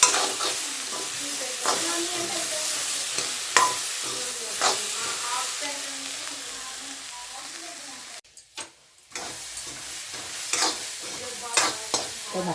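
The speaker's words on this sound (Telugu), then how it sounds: "మొక్కలు అయితే వేగినాయండి" Corn kernels fry in a pan with a little oil, chilli and salt, sizzling steadily while a spoon stirs and scrapes with periodic clacks, close and continuous, with a brief quieter dip midway.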